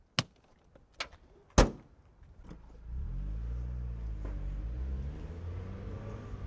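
A 1999 Mazda Miata with a 6-speed manual gives a few sharp clicks and knocks, then its engine starts and settles into a steady, close, droning rumble as it drives, rising and falling with shifts.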